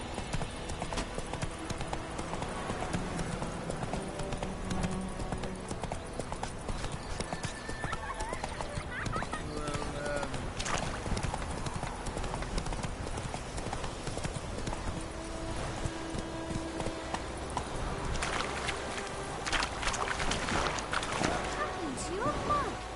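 Roach the horse galloping in The Witcher 3, a steady rapid clip-clop of hooves with occasional snorts and whinnies under game music and effects, with a voice speaking over it at times.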